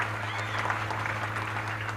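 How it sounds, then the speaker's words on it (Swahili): A crowd at the Kitui County Youth Engagement Forum claps in a dense, steady burst of applause, filling the hall from start to finish. "Tujipigie makofi."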